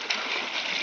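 Cold water splashing during an outdoor bath in Nepal, splashed up to wash the face, a continuous close watery slosh and splatter with no talk.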